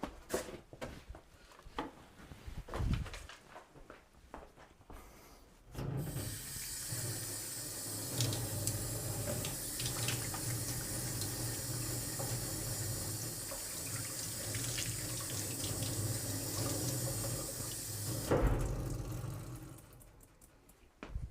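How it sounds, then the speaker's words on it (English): Tap water runs steadily into a sink for about thirteen seconds as hands are washed after a small cut, starting abruptly and stopping near the end, with quiet handling noises before and after. "Alright, I'm gonna go wash my hands quick."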